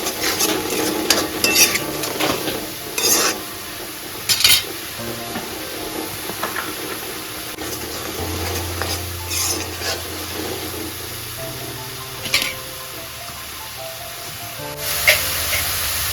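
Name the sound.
stirring and roasting spices with corn in a pan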